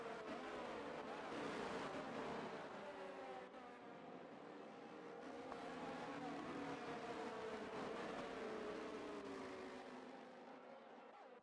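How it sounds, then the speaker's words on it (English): F1 race cars in a racing video game running through corners under a safety car at Austria, a faint, continuous engine whine that swells and fades gently as the cars pass. "get a beautiful shot of these F1 cars going through the corners"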